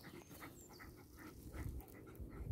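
Terrier dogs pant softly and rhythmically close by, quick breathy huffs repeating over low background hum.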